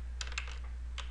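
A handful of quick computer keyboard keystrokes type out a command, crisp close clicks in two short bursts with no voice.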